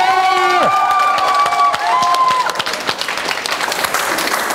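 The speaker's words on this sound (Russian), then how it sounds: "Аплодисменты!" Crowd applause and cheering break out for the winner at a slap-fighting tournament, close and continuous under a host's voice at the start.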